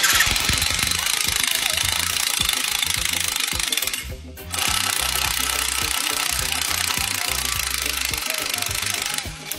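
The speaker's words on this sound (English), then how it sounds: "We don't usually make mistakes, but just in case we did, let's go for a 14 mil reamer." A machine drives a 14 mm reamer through a metal hole, a loud continuous grinding whir with a rhythmic knocking beneath, a brief dip in the middle, then running steadily again close by.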